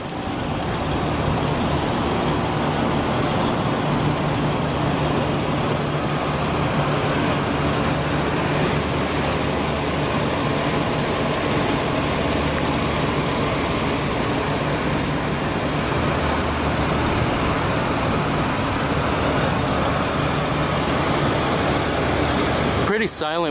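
A 2014 Mercedes-Benz E350 with a 3.5-litre V6 idles smoothly and quietly, a steady low hum that holds evenly with no revving and ends abruptly.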